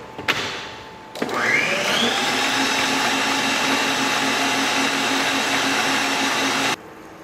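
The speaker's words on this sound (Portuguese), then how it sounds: "eu já vou colocar as claras para começar a bater" An electric mixer whips egg whites for a berry charlotte. After a brief start it runs at a steady loud whir for several seconds, with a rising pitch as it gets up to speed, then stops abruptly.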